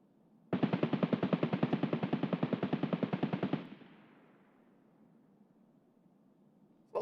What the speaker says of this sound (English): A lot of shooting.